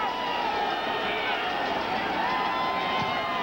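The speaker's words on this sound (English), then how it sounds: "This is not a happy crowd here" A football stadium crowd murmurs and rumbles steadily during a New York Giants extra point attempt at Arizona in 1994, a broad distant roar under a commentator's voice.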